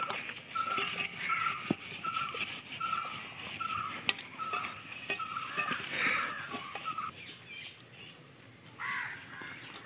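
Dishes being washed with soap by hand at home: continuous scrubbing and rubbing against utensils, close and steady, with crows cawing in the background.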